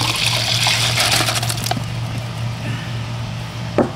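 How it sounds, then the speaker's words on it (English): Water straining off soaked okra seeds held in a bag over a bucket, a steady splashing trickle that runs loud at first, thins out, and ends with a brief splash near the close. "What we're gonna do is strain the water off of these."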